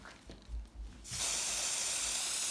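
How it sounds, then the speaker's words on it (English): After a few soft handling bumps, an aerosol can of ninhydrin spray bursts on and hisses continuously for over a second onto paper, close and fairly loud. "And then we need our ninhydrin spray."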